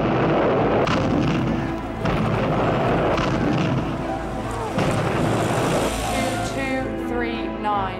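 Bombs bursting in a wartime raid on the RAF Martlesham airfield in the Battle of Britain: a sustained, loud barrage of booms and rumbling blasts, with sharper crashes near one, two and five seconds.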